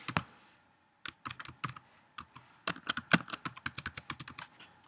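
Quick bursts of key presses on a computer keyboard while a password is entered, close and fairly quiet, with a short pause before an uneven, rapid run of clicks.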